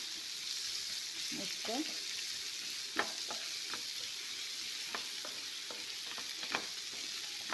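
Garlic and onion sauté in a pan with a steady hissing sizzle, broken by a series of spoon scrapes and light knocks at an unhurried pace, and a brief word spoken once.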